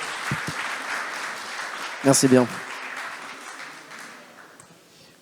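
An audience applauds a speaker at a pitch and networking event in Paris's Palais Brongniart. The steady clapping fills the room and slowly fades, with a short spoken thanks partway through.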